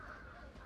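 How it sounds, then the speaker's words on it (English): Crows cawing in the attic of Aldale Bridge in the video game Thief, a steady raucous chorus of caws filling the short stretch, close and continuous with no talk. "Good lord, look at all the birds in here."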